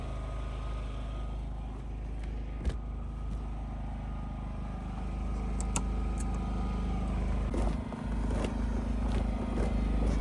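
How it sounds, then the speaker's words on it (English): A Predator 5000 portable generator drones steadily inside a closed shed, a continuous low engine hum with an occasional faint clunk and rattle, muffled and unchanging throughout. "See the generator still running."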